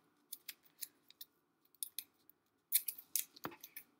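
Scissors cut out paper pieces in short bursts of crisp snips, close and quiet, with pauses between cuts and a busier cluster near the end.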